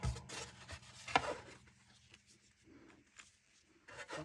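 Intermittent rubbing and rasping of a wooden lyre soundboard being trimmed to size, close and fairly quiet, with short scraping strokes and pauses.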